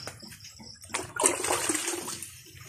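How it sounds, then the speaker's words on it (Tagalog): Water drawn from a well gushes and splashes close by, a surging pour that swells in the middle then tapers off, with faint background noise and no talking. "Kuha muna tayo ng tubig"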